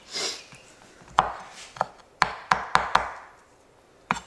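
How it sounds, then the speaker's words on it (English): A knife chops crushed garlic on a cutting board for fried rice: a handful of sharp, irregular close taps against wood, spaced with short pauses, alone with no talk. "Take it, flatten it, you'll crush it, and then chop it."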